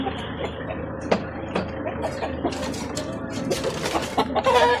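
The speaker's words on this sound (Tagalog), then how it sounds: "yan ang manok" Chickens cluck repeatedly in short bursts, close and moderately loud, over a busy background of rustling at a house.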